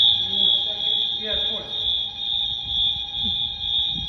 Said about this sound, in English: It did have this loud beeping noise